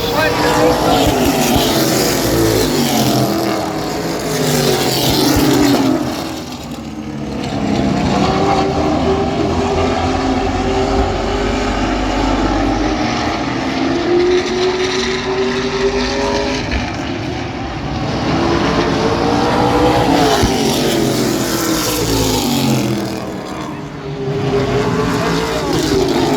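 CRS series race trucks roar around Sandusky Speedway side by side, engines surging and fading as they pass, loud and continuous, with a race announcer calling the action over the noise.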